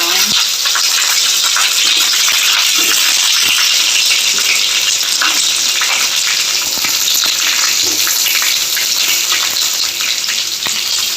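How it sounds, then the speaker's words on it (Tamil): Curry leaves and onion hit hot oil and sizzle loudly in a steady, continuous hiss that fills the whole stretch with crackling spatter, close and unbroken. "கருவேப்பிலை கொஞ்சம் போட்டுக்கலாம் வெங்காயம் போட்டு"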